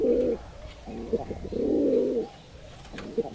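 Giribaz pigeons from Rajshahi coo close by in soft, throaty rolling phrases, several calls in a row with short pauses between them.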